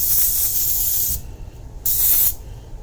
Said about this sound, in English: I spray things like too much, but I have like horror stories of things sticking